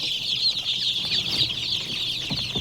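A crowd of five-day-old chicks peeps continuously in a dense, high chorus, close and steady, with faint rustling underneath.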